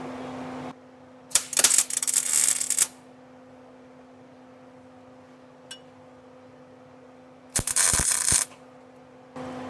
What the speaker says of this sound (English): Yep, it's welding like garbage again.